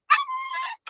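A small dog's short whining yip inside a parked car, a single close, high-pitched cry lasting under a second, alone with no talk.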